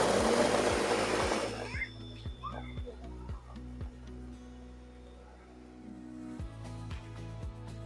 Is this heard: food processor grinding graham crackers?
yes